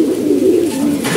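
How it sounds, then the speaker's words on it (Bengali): Pigeons in a loft coo in a low, rolling, close and loud call that runs continuously through the whole moment, with no other sounds over it. "কবুতরগুলো দেখি ভাই"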